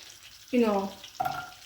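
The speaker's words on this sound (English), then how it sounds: "we want to melt the butter to the point that it's sizzling a bit" Butter melting in a hot pan gives two short bursts of sizzling and frying, close and fairly quiet, with a brief gap between them.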